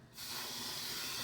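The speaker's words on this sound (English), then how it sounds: "And then you take this and you quick spray." A quick aerosol body spray hisses out in one steady, close burst that starts abruptly and keeps going to the end.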